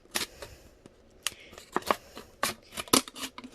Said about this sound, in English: make sure you have good solid scissors so that way you can cut through the plastic